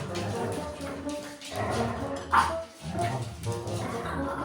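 Kobe, a dog, barks and grumbles in the morning to tell other rescue dogs off, with steady, close, fairly loud vocalizing, brief whimpers and yips among it, and a sharper bark near the middle.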